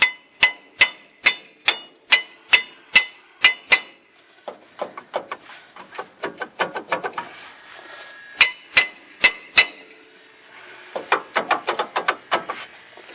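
Repeated sharp metallic hammer strikes on the emergency brake parts of a 2003 Ford Explorer in a steady rhythm, then a cluster of quicker, lighter taps and another burst of rapid blows.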